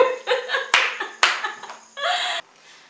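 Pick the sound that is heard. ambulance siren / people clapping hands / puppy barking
people clapping hands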